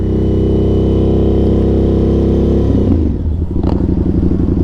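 Indian FTR 1200 motorcycle engine running steadily and loud, a thick low rumble that drops in pitch and changes to a choppier idle-like beat near the end as the bike slows.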